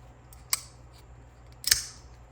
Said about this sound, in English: It has a unique opening sound.